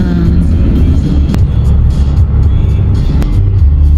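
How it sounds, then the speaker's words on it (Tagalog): Road traffic rolls along Calax Road under an overcast sky, a steady close rumble of car engines and tires that continues throughout, with a couple of brief sharp knocks. "Traffic yun siya."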